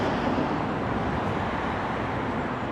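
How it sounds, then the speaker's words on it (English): Heavy M5 motorway traffic roars overhead beneath the concrete viaduct at Oldbury, a loud, dense and unbroken rumbling wash of passing vehicles echoing among the pillars. "You can hear the roar of the traffic above your head."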